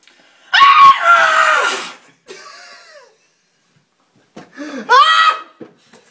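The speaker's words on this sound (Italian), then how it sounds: "Fai un urlo" A footballer lets out two loud, harsh screams on request during a Siena Calcio interview, with a short pause between the bursts and no speech.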